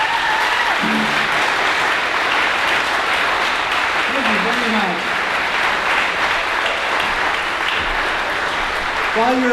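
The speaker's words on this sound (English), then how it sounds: "While you're applauding" Applause from a ukulele festival audience, a dense and steady wash of clapping right after a song ends, with voices and brief bits of sound from the stage rising above it.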